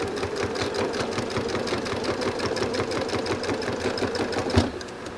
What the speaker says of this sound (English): now I sew from the dot where I just turned down to 1/4 of an inch before the end here